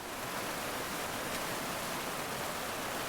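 Valanjanganam waterfall, a long roadside cascade pouring down from the hills, gives a steady, dense rushing roar that stays even and unbroken throughout, with no voices.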